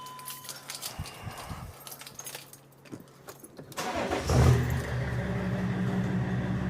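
A BMW X5 six-cylinder engine with sports exhaust starts after some faint clicks and handling noises, then settles into a loud, steady, deep rumbling idle close by.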